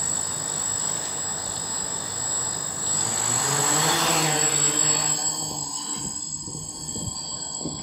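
An ArduCopter multicopter drone flies over ice with a steady, close propeller whine and buzz that swells, then fades as it moves away.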